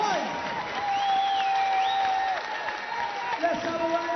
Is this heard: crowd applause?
yes